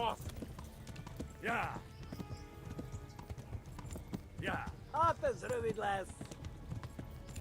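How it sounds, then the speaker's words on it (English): Galloping horse hooves in Kingdom Come: Deliverance, a steady clip-clop rhythm running throughout beneath a voice talking over the game, with a brief whinny-like call. "Horse's stamina seems to be doing okay."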